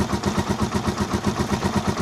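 A Rusi Chariot 175 motorcycle engine idles at a raised, warmed-up idle, a steady rapid low pulsing that holds even and close with no voices.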